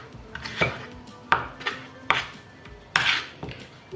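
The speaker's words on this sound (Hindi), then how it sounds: "आलू को भी हम बारीक स्लाइस में जो है ना लंबा लंबा काट लेते हैं।" A knife slices potatoes into long thin strips on a cutting board, producing a handful of crisp, close thuds at uneven intervals with short quiet gaps between them.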